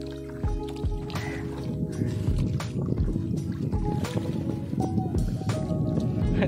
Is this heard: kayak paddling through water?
yes